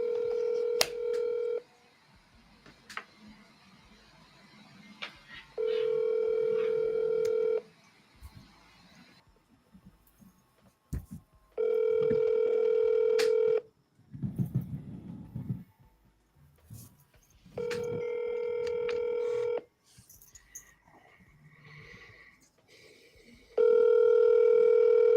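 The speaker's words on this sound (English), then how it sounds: "I'm just going to call him from my cell number." A cell phone dialing out: bursts of touch-tone keypad beeps, then repeated long ringback tones in a steady on-off pattern, each lasting a couple of seconds with quiet gaps and faint background noise between.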